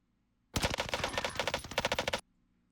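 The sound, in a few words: Automaton gun firing in Warzone video game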